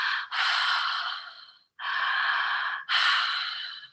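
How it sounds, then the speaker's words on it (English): Connected breathing through the mouth, deep audible inhales and exhales following one another in an unbroken rhythm, close and breathy, with roughly three long breaths and no speech. "And you have what's called a connected breathing."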